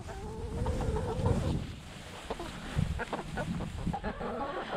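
Homestead chickens cluck and chatter close by in a continuous busy stream, with scattered soft pecking and scratching sounds mixed in.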